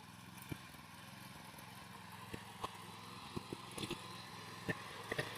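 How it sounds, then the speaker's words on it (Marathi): A tractor engine chugs steadily in a rice field, a continuous mid-pitched running drone with a few sharp knocks and clicks over it, fairly close and without talk. "पंकज पंकज हे बघा, या भात ट्रॅक्टर इल्लो हा."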